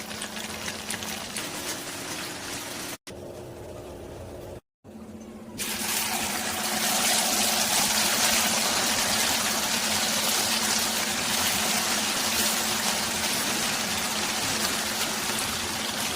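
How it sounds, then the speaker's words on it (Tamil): Masala frying in groundnut oil, foaming and bubbling up, a steady loud hissing sizzle that swells after a brief pause and continues unbroken. "கடலை எண்ணெய் வைக்கிறதுனால வந்து நிறைய நுர பொங்கி வருது"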